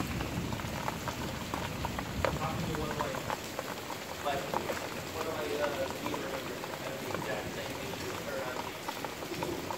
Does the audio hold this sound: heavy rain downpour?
yes